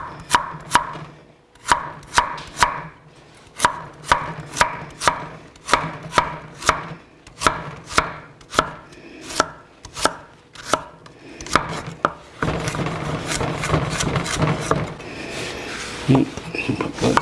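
A knife chops through chicken for a stir-fry with crisp, evenly spaced strokes on a cutting board, close and clear, then shifts to quicker, busier cutting and shuffling near the end.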